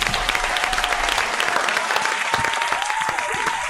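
A round of applause from an audience, with dense, continuous clapping sustained for a few seconds at a loud, close level and a faint steady tone running beneath it.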